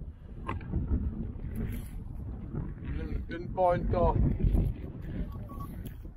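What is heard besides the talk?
strong wind blowing into microphone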